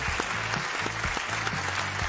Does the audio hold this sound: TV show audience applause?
yes